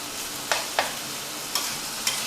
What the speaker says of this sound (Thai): ผัดสักครู่หนึ่งครับให้เนื้อหมูเริ่มสุกก่อนครับ